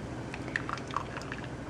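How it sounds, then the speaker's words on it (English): Water drains and drips from a poached egg resting in a small kitchen strainer, giving a few soft, quiet wet drips and squishes over a faint background hiss. "Let the water go off as much as possible"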